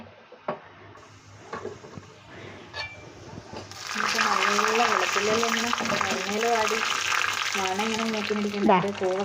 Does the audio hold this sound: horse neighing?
no